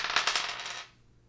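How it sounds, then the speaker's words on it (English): A couple of dice clatter and rattle on a hard surface, with a quick burst of tumbling clicks that settles and dies away within a second. "grab a couple of these dice and we will roll these and see what we get for the first day"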